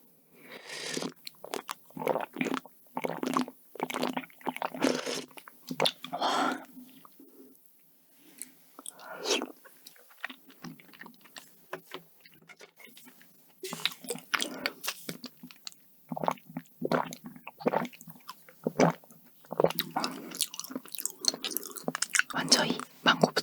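Close, crisp bites and wet chewing of a Nutella strawberry croissant waffle and egg waffle dessert, repeated in bursts with short quiet gaps between crunchy mouthfuls.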